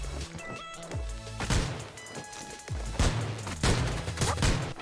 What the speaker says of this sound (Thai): เดี๋ยวเสียงปืนครับ